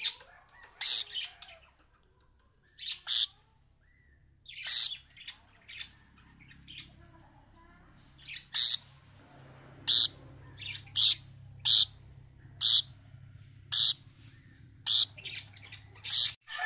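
Philippine hanging parrots (colasisi) give repeated sharp, high squawking calls in irregular bursts, fairly near and loud, with soft low rumbling background noise between calls.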